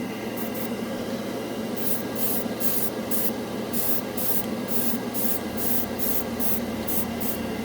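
Alclad metal paint being airbrushed as a light base coat over white primer: a steady close hiss of spray, broken by rhythmic short bursts of louder spraying.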